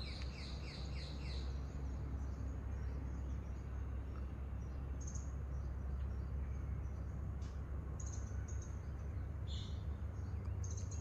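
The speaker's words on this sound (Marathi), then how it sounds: "मला खूप निरनिराळ्या पक्ष्यांचे आवाज येत होते." Several birds chirp and call in the dense forest of the Karnala bird sanctuary, with high twittering bursts scattered over a steady low rumble of background noise, fairly faint and distant.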